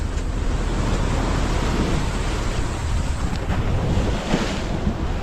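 Rough ocean waves off Rapu-Rapu, heard from a small boat at sea: a loud, continuous wash of surf and spray mixed with heavy wind buffeting, with no voices.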